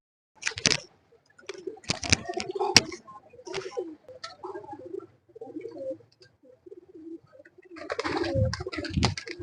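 Lakha breed pigeons coo on a rooftop loft, soft low murmuring calls mixed with wing flutters and bursts of movement, fairly close, with some brief ambient noise between.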